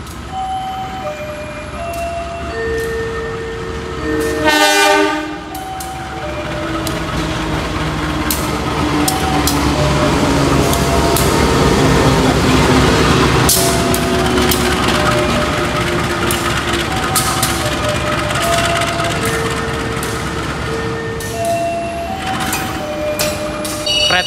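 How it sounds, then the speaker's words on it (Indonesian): The Doho train, hauled by a vintage locomotive, rumbles into track 4 at Kertosono station with long tonal horn blasts sounding over the continuous rolling noise of the carriages. "Kereta api Doho udah masuk di jalur 4 stasiun Kertosono"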